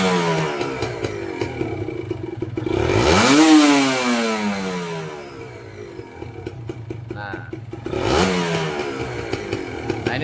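A Kawasaki Ninja RR motorcycle with a corroded, scratched cylinder block is started and revved twice, with a loud, close two-stroke engine rising into high rising whines and falling back to a rattly idle between throttle blips.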